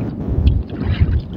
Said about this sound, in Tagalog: Grabe ang paros ng hangin.